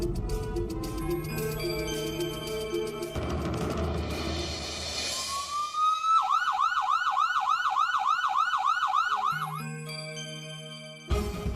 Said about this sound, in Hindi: अब मैं फटाफट एम्बुलेंस बुला लेता हूँ।